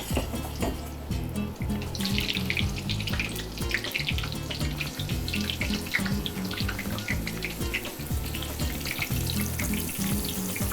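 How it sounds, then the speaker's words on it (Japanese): Continuous crackling sizzle of butter frying in a pot until browned, with a running-water-like hiss and low background hum throughout. "焦がしバターを作っていきます。"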